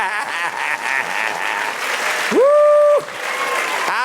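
A church congregation claps in a dense, steady burst while a loud sustained tone, like a voice or instrument, rings out briefly over the applause.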